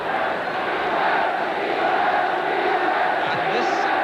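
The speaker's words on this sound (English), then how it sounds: "this Belfast crowd now shouting easy, easy, easy" A Belfast football crowd at a Northern Ireland v England match chants and roars in a steady, dense wall of voices that holds loud and unbroken throughout.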